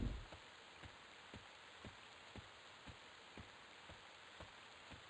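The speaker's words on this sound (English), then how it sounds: "Yep, it raining." Rain in a stormy outdoor scene of the video game EverQuest, a steady soft patter with faint, evenly spaced drips recurring about twice a second, heard alone.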